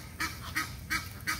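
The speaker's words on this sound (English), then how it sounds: "The ducks are swimming in what is supposed to be my backyard." Ducks swimming on a rain-flooded backyard give four short honking calls at a steady pace, heard at moderate distance over a faint outdoor background with no talking.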